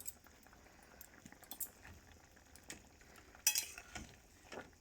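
Fish and taro curry simmering in a cooking pot, a soft steady bubbling with faint clinks of utensils, quiet and close with no voices.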